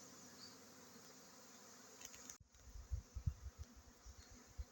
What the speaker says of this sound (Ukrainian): Уже бачу, що рій такий буде непоганий.